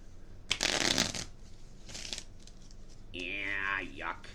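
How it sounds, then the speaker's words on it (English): Player cards for the baseball board game Bat Flip Dynasty being shuffled, two short papery riffle bursts, followed by a voice humming a sliding tune, close and fairly quiet. "Shuffle player cards to form a player deck."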